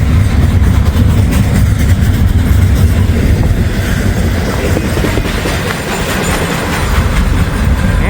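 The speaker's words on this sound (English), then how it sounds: "Not the longest train, but it is a train." A Norfolk Southern freight train rolls past close by in cold weather, a loud, heavy rumble with rhythmic wheel clatter that swells and eases slightly as the cars go by.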